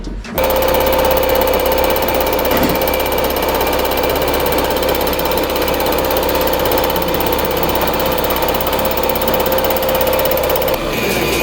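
A machine skims the face of an engine cylinder head that had a blown gasket, giving a loud, steady mechanical whine with a constant hum that runs for about eleven seconds, then cuts off.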